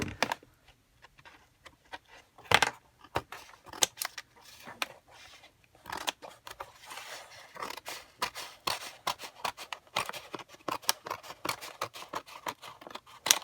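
Scissors snip repeatedly through a planner cover, with crisp irregular cuts that come in bursts and pauses, sounding close and fairly clear, and faint talk is heard in places.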